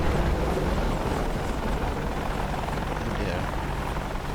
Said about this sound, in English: that is one sexy helicopter the Americans have